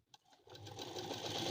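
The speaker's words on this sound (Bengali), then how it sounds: "এখন আমি চাপ সেলাইটা নিয়ে দেব।" A sewing machine top-stitches ladies' pants, starting after a small click and building into a steady, close mechanical whirr that runs on without pause.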